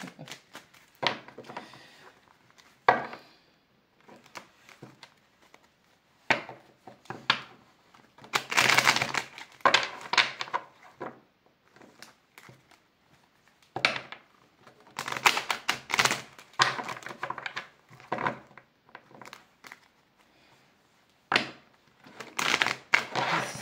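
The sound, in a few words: cutting and shuffling a deck of cards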